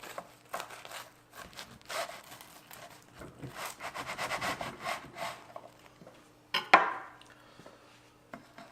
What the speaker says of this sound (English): So now, just simply cut in between.